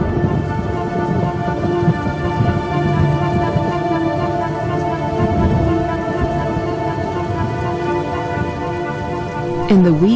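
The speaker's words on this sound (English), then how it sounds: "the rains continue to fall in a ceaseless torrent" Heavy rain pours steadily in the African wild during a wet season, a dense continuous wash of falling water with faint low rumbles, and a brief high animal-like cry near the end.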